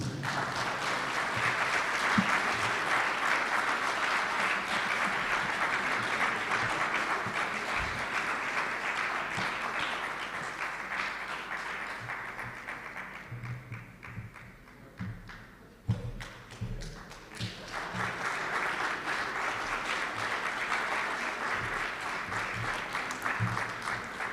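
Sustained applause from a teacher awards audience for a guest speaker, loud and continuous, thinning briefly in the middle before swelling again, with occasional thumps.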